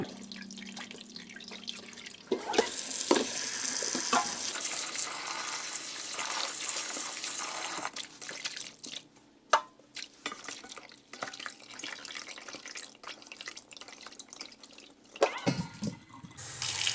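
Dried shrimp are rinsed and swished in a basin of water, with a gushing pour from a tap followed by sloshing, splashing and drips, close up with brief pauses and no talk.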